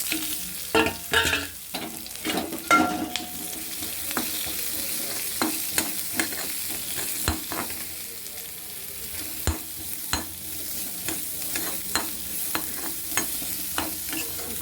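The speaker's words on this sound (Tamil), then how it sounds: "வெங்காயம் கொஞ்சம் சோம்பு சீரகம் மிளகு இஞ்சி இதெல்லாம் வந்து எண்ணெயில் போட்டு நல்லா இதை வதக்கிக்கணும்" Onion, fennel seeds, cumin, black pepper and ginger sauté in hot oil for an egg curry base, a steady sizzle broken by repeated clanks and scrapes of a spoon stirring the pan, close and fairly loud with no talking.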